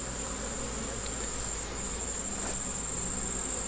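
A mass of honey bees buzzes around a hive after roughly a thousand more were added, a constant, even drone heard close up, with a faint high ringing tone running steadily above the hum.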